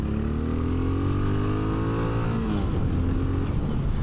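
A 2025 Honda XR650L single-cylinder motorcycle engine accelerates, its loud, close exhaust note climbing steadily in pitch under wind noise.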